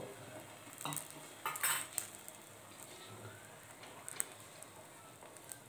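An egg frying in a pan for egg toast gives a soft, low sizzle, broken by a few sharp clinks and scrapes of a utensil against the pan.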